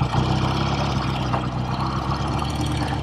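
A kickstart-only 1969 BSA Thunderbolt 650 motorcycle engine runs steadily up close, its loud, even low rumble holding without pause and with no talking.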